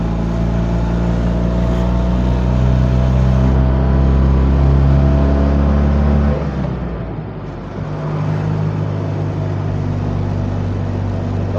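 A Polski Fiat 126p Maluch engine labours uphill as a loud, close, droning hum with strong low harmonics; the pitch drops and the sound dips briefly midway, then the engine settles back into a steady drone.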